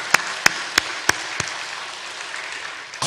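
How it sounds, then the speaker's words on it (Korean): Applause from a church congregation during a Sunday worship service marking the 75th Liberation Day, heard as a handful of sharp, evenly spaced claps over a soft, steady wash of clapping that fades toward the end. "우리 하나님께 영광의 박수 같이 돌리겠습니다"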